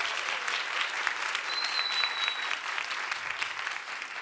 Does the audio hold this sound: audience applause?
yes